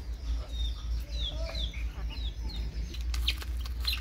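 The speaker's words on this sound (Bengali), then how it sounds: "সবগুলো হাঁস মুরগি আল্লাহর রহমতে সুস্থ আছে" Chickens and ducks calling in a farmyard, with scattered clucks and short chirpy calls over a constant low hum, moderately close, with faint background voices.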